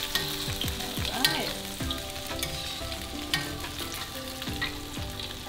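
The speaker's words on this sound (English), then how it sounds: "I wanna deep fry them for about 1 minute" Cream cheese wontons deep fry in hot oil with a loud continuous bubbling sizzle, occasional clinks and scrapes of a utensil against the pot, no voices.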